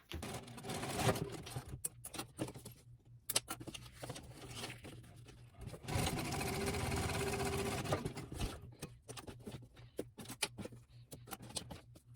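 Close-up sewing machine topstitching a folded seam allowance on a fabric dog treat bag, whirring steadily in long runs broken by a few short pauses and clicks.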